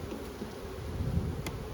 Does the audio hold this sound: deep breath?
no